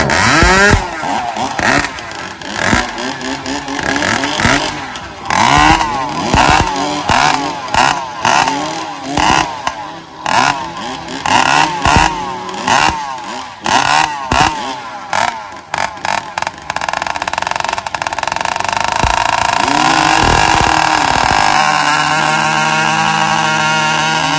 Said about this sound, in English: these saws are loud